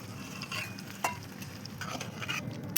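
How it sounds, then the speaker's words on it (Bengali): Chicken and potato curry being stirred in a pan after a splash of water, with soft sizzling and intermittent scraping and clinks from the spoon, quiet and close. "অল্প জল দিয়ে একটু নাড়িয়ে দেব"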